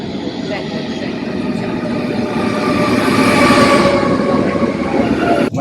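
The interior of Italy's fastest high-speed train near Milan gives off a loud, continuous rumble with rattling and clacking, and faint voices mix into the noise.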